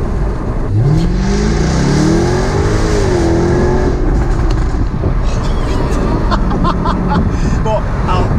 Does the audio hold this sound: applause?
no